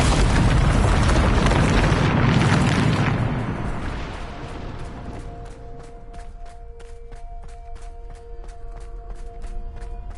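A Bombarda explosion spell from Hogwarts Legacy erupts in a loud, broad rumbling blast that fades over a few seconds, leaving quieter game ambience with faint regular ticking beneath.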